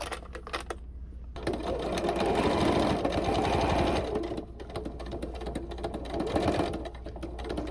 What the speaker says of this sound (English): And then let's just stitch it right there.